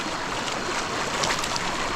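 Clear mountain river water rushes steadily over rocks at Bagsit River in Zambales, a continuous close, full wash of flowing water with no pauses.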